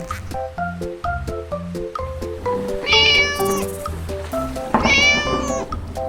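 A small cat meows several times, with two longer, louder cries near the middle and end, over soft background music.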